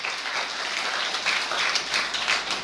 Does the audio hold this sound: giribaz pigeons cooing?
no